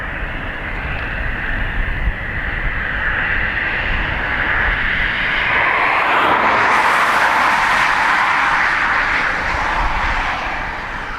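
A Ryanair airliner departs Dublin Airport runway 28 right, its jet engines a loud broad roar that builds and shifts to a harsher, brighter whine as it rolls and climbs past, with no voices.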